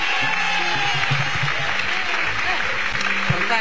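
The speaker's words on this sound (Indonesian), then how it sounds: "Oke, tepuk tangan lu untuk Wendy." Audience applause fills a studio during an Indonesian TV variety quiz show, a steady wash of clapping from a crowd that holds at a constant loud level throughout.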